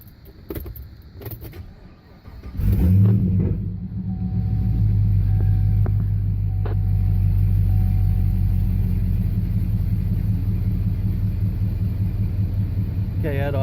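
Keys jangle and a few clicks come first, then a car engine cranks and fires with a loud surge and settles into a steady, even low idle that carries on to the end.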